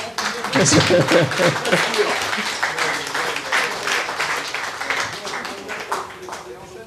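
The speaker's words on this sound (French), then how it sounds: "On peut l'applaudir." Audience at a podcast meetup breaks into sustained applause, dense clapping that swells quickly, then slowly thins out over several seconds while someone speaks underneath.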